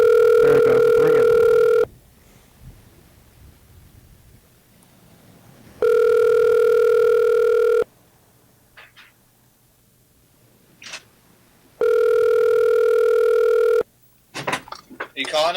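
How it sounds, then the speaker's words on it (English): A telephone rings in three long electronic bursts separated by pauses, with faint clicks and small noises in between. "There it goes. It's ringing."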